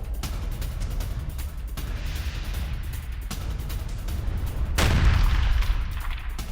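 Artillery fire in wartime Belgorod: a steady rumble of distant gunfire and booms under continuous battlefield noise, with a louder blast-like swell near the end.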